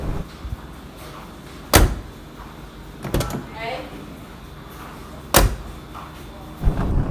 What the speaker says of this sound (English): Another positive thing about this car is how the door opening and closing,